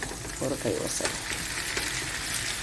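Chopped tomatoes and green chillies drop into hot ghee with frying onions in a pan, giving a steady loud sizzle with stirring and scraping over it.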